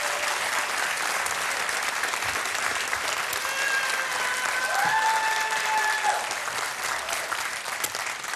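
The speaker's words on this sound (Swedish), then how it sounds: "Ja, de är värda en stor applåd." Applause from a studio audience at a televised Swedish bingo lottery show, a steady dense wash of clapping lasting several seconds with a faint tonal sound drifting through it.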